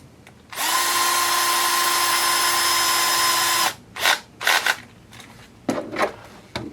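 Power drill driving an 18mm screw during furniture assembly: one long steady whir of about three seconds, followed by several short bursts as the screw is cinched down, close and loud.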